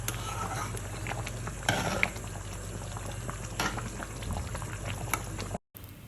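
A spicy meat curry seasoned with chili powder simmers in a pot, giving a steady close bubbling and sputtering that cuts off abruptly just before the end.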